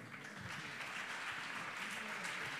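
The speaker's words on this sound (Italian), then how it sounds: "Applauso." An audience at a music-industry conference panel during Milano Music Week claps in a soft, even wash of applause, distant and brief.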